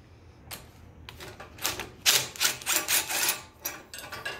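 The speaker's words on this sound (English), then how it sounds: "I'll pop them loose a little bit with a ratchet and drop that" Ratchet wrench loosening bolts on a Briggs and Stratton lawn mower engine head, a string of quick close clicking bursts that grow louder midway, with no talking.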